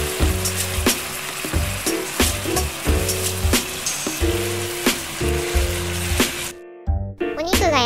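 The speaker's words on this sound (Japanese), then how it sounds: "ひっくり返したらタレを加え、お肉にしっかり火が通るまで焼きましょう。" Thin slices of pork with a ginger sauce sizzle steadily in a frying pan, a dense close crackle with occasional clicks and taps throughout, until it abruptly cuts down near the end.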